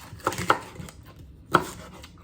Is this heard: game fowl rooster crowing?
no